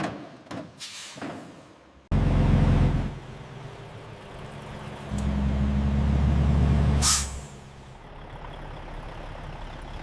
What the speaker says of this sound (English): Finished pallets are loaded onto trucks, ready to reach retailers and consumers worldwide.